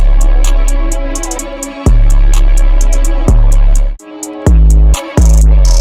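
Sequenced hi-hat rolls tick in rapid repeating bursts over a loud looping beat, the roll pitch shifting between sections, with heavy bass hits and a brief gap of silence partway through.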